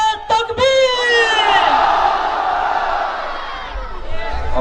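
A large crowd at a political public meeting in Gujarat answers a Takbir slogan with a loud, sustained collective chant that swells and slowly fades, following a short amplified call.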